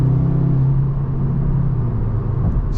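Loud steady engine drone with a low rumble from inside a 2023 Audi S3, pitch holding roughly level as it drives.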